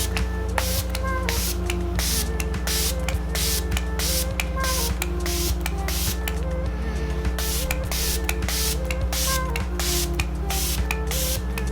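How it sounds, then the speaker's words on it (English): Makeup setting spray is pumped in a rapid series of short, close hissing bursts over a steady low background hum. "Let's lock it all in with the setting spray"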